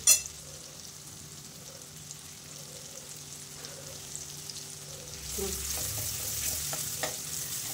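Tomatoes sautéed in a pan for a dill leaf (shepu) vegetable dish: a soft, steady sizzle with occasional stirring that swells louder and brighter partway through, close-up, with no talk.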